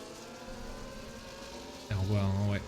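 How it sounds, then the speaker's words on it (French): An F1 race car from the F1 video game whooshes past with a sudden loud, high-revving engine tone near the end, following a steady lower engine drone, while a commentator talks. "Et on voit hein, ouais, toutes les voitures passer."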